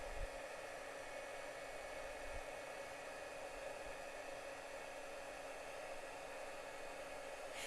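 A heat tool blowing hot air over small paper flowers, a steady, even whoosh that runs unbroken and fairly quiet throughout, with no talking.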